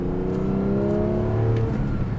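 The 4.0-litre engine of a Porsche 718 Boxster 25 Years GTS hums at part throttle and low revs, a steady close drone with slight rising pitch.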